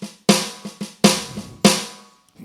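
Roland TD-11 electronic snare with the rim assigned to the same sound as the head, five or six close, punchy hits in a loose rhythm, each with a fat body and short ring, played alone without speech.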